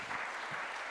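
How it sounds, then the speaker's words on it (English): Conference audience clapping at a music information retrieval meeting in Delft, a brief steady wash of applause that fills the whole moment without pause. "we can applaud already"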